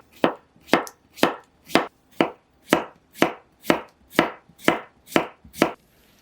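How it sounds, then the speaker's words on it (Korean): A knife slices peeled, halved cucumber into thin slices on a board, about a dozen crisp, evenly spaced chops ringing out close and clear with nothing else heard. "반으로 자른 다음 얇은 두께로 슬라이스 해줄게요"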